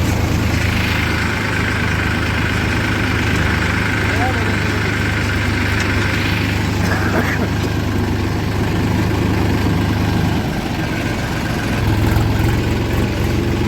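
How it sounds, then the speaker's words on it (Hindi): A tractor engine idles and runs in second gear on a busy, dusty road, a steady low rumble that holds throughout and shifts slightly near the end, with a person talking over it. "आज ट्रैक्टर दूसरे गियर में मुड़ा है।"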